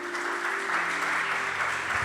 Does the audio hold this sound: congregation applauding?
yes